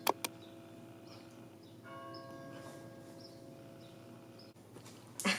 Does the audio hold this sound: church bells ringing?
yes